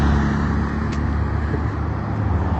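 A loud green car rumbles past on a street, a close steady engine roar with road noise filling the whole moment, no talk over it.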